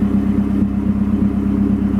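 A Mazda Speed 3 drives along with its engine droning in a low, steady rumble, loud and close from inside the car, unchanging over two seconds with no voices.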